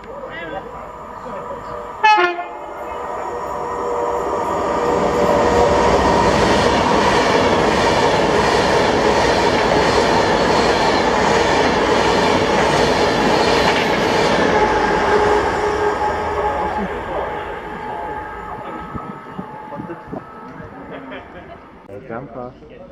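A train horn sounds, then a Class 50 diesel passenger train roars past close by, its engine and rolling wheels swelling loudly before fading away.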